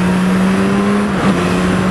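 Accessory aftermarket exhaust on a Suzuki GSR motorcycle, revving with a steady, loud engine drone that dips briefly and rises again, close up, with no talk.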